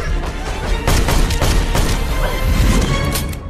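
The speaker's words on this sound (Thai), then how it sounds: "บีก็ได้โอกาสยิงท้องลินไป4เม็ด" A movie shootout where a woman is shot in the stomach: a rapid burst of loud, close gunshots and crashing impacts, dense and overlapping throughout.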